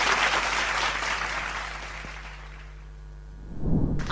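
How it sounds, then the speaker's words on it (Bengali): A stage audience at a Bengali singing show and award event applauds. The clapping is dense and sustained, then gradually thins and fades over a few seconds. "আর সাথে রয়েছে আপনাদের করতালি।"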